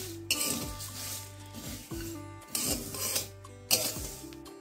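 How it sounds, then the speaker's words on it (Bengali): Spices dry-roasting in a wok over a low gas flame, stirred in a few separate scraping passes with metallic clinks over a steady low hum from the burner. "এইভাবে মশলাগুলোকে একটু হালকা ভেজে নেব"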